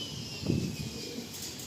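Soft, low cooing from pigeons for sale in Sonarpur, a brief throaty burst near the start, then fainter murmurs over steady background hiss.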